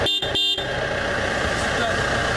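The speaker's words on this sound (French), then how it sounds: "Klaxon." A car horn sounds twice in quick, short blasts during a vehicle inspection at a car market in Africa, then the engine keeps idling steadily and loudly.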